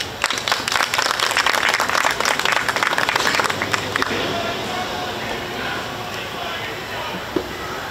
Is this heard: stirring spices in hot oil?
no